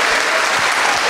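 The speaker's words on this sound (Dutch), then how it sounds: "Applaus hiervoor, mensen" Audience applause at a school closing event fills the space with dense, steady clapping from a large crowd, loud and continuous throughout the short burst with no talk over it.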